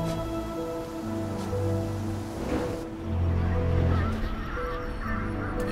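Birds honk like geese in the video game Ori and the Will of the Wisps. Several honking calls rise over a steady wash of rain-like ambience and soft game music, with no speech.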